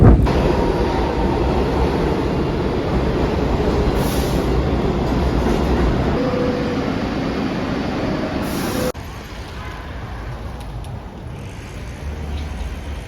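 A New York City subway train rides toward the West Village in Manhattan, with a loud, steady rumble of wheels and car noise throughout and a faint high whine. The roar drops somewhat in level near the end.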